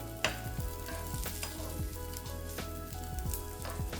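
Sweet corn patties coated in semolina frying in a pan of oil, a steady close sizzle with repeated soft scraping and stirring knocks, no voices.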